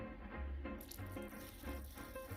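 Water is squirted into a small propagation cup holding Fluval Stratum for a hoya cutting, giving a brief trickling splash over a faint background hum.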